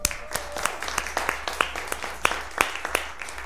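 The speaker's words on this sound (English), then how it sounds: "So I think we owe John a round of applause" Scattered, sparse clapping from a small audience at a public hearing on Community Development Block Grant funding, with sharp individual claps spaced out over a few seconds and no sustained ovation.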